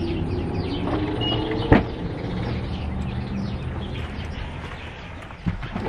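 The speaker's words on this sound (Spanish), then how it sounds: "Les voy a poner aquí cómo cantan los pajaritos" Small birds chirp and tweet sporadically amid outdoor ambience, with a sharp knock partway through and a fainter one near the end.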